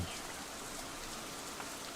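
Rain falling in the visual novel game Katawa Shoujo, a steady, dense patter of drops on surfaces, even and continuous throughout with no voices.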